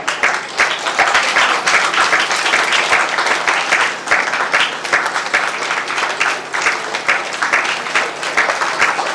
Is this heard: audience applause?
yes